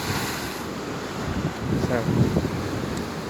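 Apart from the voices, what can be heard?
rough sea waves and wind in stormy weather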